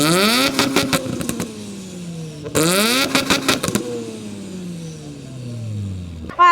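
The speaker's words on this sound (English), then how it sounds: "It's even got forged wheels and, I bet you this sounds insane, it's got an aftermarket exhaust in it." Carbon-bodied sports car fitted with an aftermarket exhaust, parked at a supercar and hypercar show, blipping its throttle in two sharp rising rev bursts that fall away into a loud lingering idle and crowd noise.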